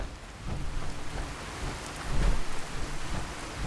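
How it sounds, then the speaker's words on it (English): Rain and thunder in the video game Fallout 4: a dense, steady hiss of falling rain with low thunder rumbles swelling in the background, no voices. "Looks like the rain clips through this"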